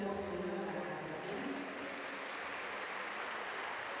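Audience applause breaks out at a folk dance performance by a local dance group, dense steady clapping from a crowd that fills the room for the full stretch, with faint talk blended in at the start.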